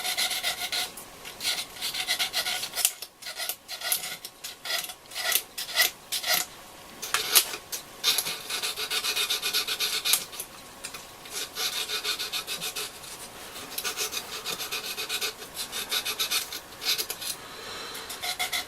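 A radio part from a Selena B210 is rubbed with 1000 grit wet and dry sandpaper in quick, uneven rasping strokes, close and fairly soft, continuing with brief pauses throughout.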